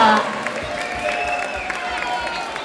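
A crowd applauds after a dance performance by a duo, a dense wash of clapping and cheering that follows a brief tone at the start, with a voice heard over it.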